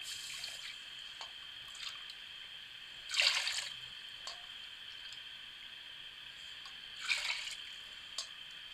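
Water is poured into a pan of sugar to make syrup for an angoori ras malai dessert, heard as two short splashing bursts a few seconds apart against a quiet kitchen background.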